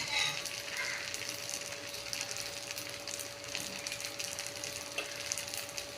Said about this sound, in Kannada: ದೋಸೆ ಮಾಡಿದ ನಂತರ ಸ್ವಲ್ಪ ಎಣ್ಣೆ ಹಾಕಬೇಕು.